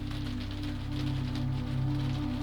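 Rain patters over the low, steady rumble of a 1920s train in motion, the rhythmic mechanical hum sitting beneath soft, close drumming of drops.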